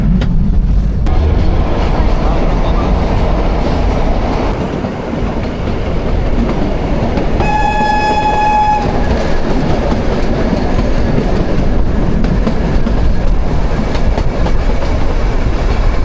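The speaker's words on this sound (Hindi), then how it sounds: "अभी कांदा घाट पे हमारी जो ट्रेन है पहुंचने वाली है थोड़ी देर में" The Shimla-Kalka toy train rolls along its rails, a loud, continuous rumble with wheel clatter heard from on board, and a brief tonal whine or horn rising partway through.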